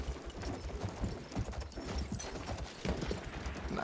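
Horse hooves clip-clopping in the video game Battlefield 1, a quick, steady run of close hoofbeats with a faint whinny and light background game noise.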